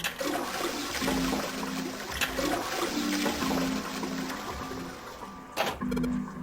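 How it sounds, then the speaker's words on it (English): Toilet flushing in the video game Zero Escape: 999, a steady loud rushing of water with a low rhythmic gurgle running throughout, near and continuous with no voices. "I heard a loud flushing noise."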